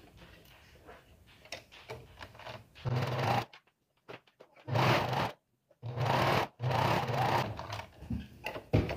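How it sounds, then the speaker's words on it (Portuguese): A sewing machine runs in bursts, stitching two pieces of fabric together with a fast mechanical whir that stops and restarts several times, close and moderately loud. "eu vou passar uma costura aqui unindo esses dois tecidos"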